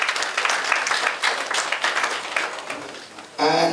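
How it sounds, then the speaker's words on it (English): Audience applause at an autism awareness dinner and fundraiser, a roomful of people clapping steadily and fairly loud, fading near the end before a voice cuts in. "Please, another round of applause for Dewdrops."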